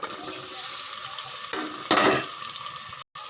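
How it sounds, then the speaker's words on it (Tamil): Onion and tomato going into hot oil for a jackfruit kurma, a steady bright frying hiss throughout with a louder sizzling burst partway, then a brief drop to silence near the end. "எண்ணெய் சூடாயிடுச்சு இதில் வெங்காயம் தக்காளி சேர்த்தே போட்டுருவோம்"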